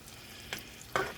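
Bacon frying in a pan, a faint steady sizzle with two brief louder scrapes or pops near the end, no talk.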